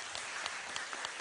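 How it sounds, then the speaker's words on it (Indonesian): Audience applause at an Indonesian religious gathering, a steady wash of many hands clapping at moderate distance, fairly even throughout with no talk over it. "Oke, tepuk tangan."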